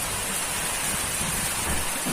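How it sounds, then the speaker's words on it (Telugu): Heavy rain pours down steadily in a village, a dense, continuous hiss of drops beating on surfaces with low rumbling underneath, loud and unbroken throughout with no voices. "చాలా గట్టిగా కొడుతుంది వర్షం."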